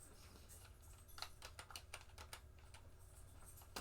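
Steady typing on a computer keyboard, a quick run of soft, close key clicks over a low background hum, with no talking.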